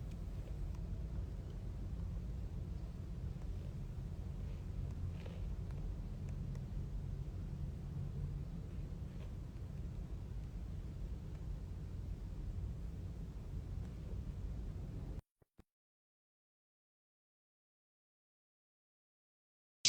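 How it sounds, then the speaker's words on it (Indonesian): Strong midday wind buffeting an outdoor microphone, a steady loud low rumble and roar lasting about fifteen seconds before cutting to silence. "siang ini anginnya kencang sekali"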